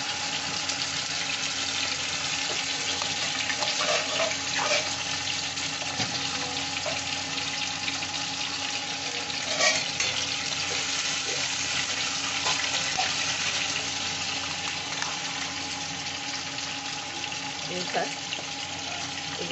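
Marinated chicken fries in a pan for a Goalondo steamer chicken curry with potatoes, giving a dense, continuous sizzle with occasional stirring clicks throughout.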